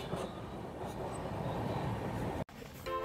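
A passenger train on the Mumbai to Ratnagiri line runs through Mangaon station without stopping, a steady low rumble and rattle heard from inside, faint and continuous, breaking off briefly near the end.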